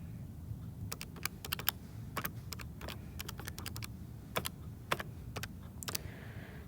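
Fingers tap numbers into a calculator or keyboard in a quiet room: a string of quick, crisp key clicks in uneven bursts over low background hum, with no talking.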